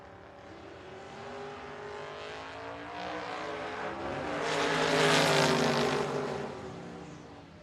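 Drag racing pair, a Camaro against a Vega wagon, roaring down the strip together as a loud continuous engine drone that swells to a peak as they pass near, then recedes slightly.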